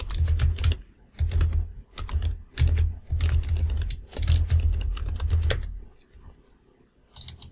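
Fast bursts of typing on a computer keyboard while writing a game script, clattering keystrokes in several close, loud runs separated by short pauses, with no talking.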